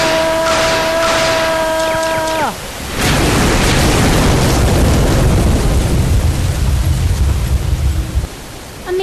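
A radio-drama explosion effect for an enemy warship turret: a falling electronic whine cuts into a loud, sustained roaring blast of rumbling noise that holds for several seconds before dropping away.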